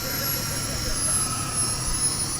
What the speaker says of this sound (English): I believe this is the world's smallest jet motorcycle.